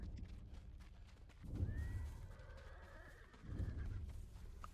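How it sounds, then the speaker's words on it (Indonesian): A horse in the samurai game Ghost of Tsushima whinnies with a long drawn-out neigh over steady clip-clopping hooves and low ambient rumble, heard fairly quietly with no talk. "Loh, kok ada kuda?"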